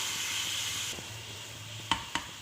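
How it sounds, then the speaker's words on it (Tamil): Caramelized sugar syrup thinned with water bubbles on a stove, a soft steady sizzle and hiss with a few brief clicks near the end. "தண்ணி சேர்த்து இது கொதிக்கட்டும்."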